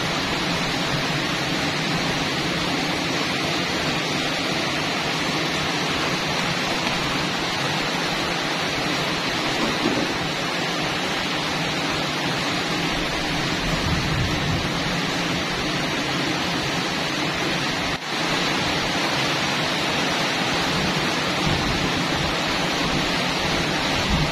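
Heavy rain pours down in a steady, dense, unbroken hiss that fills the whole stretch, loud and close, with no talking.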